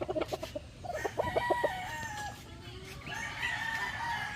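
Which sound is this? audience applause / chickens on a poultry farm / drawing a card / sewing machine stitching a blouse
chickens on a poultry farm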